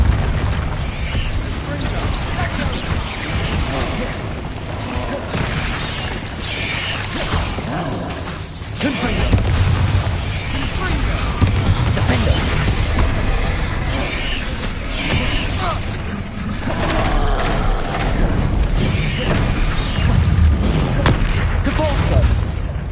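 Bombarda spell explosions in Hogwarts Legacy boom and crackle over a thick bed of creaking, mechanical game noise, with a voice talking throughout.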